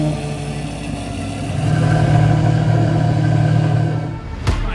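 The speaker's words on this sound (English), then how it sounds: "These guys have been waiting for him to start that exhaust." A car engine revs through its exhaust, a close, loud rumble that swells after a couple of seconds, holds, then drops away near the end.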